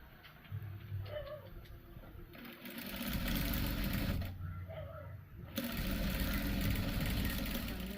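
A sewing machine stitching a party frock, running in continuous whirring bursts with a fast mechanical hum that pauses briefly and restarts, fairly close, with no talk over it.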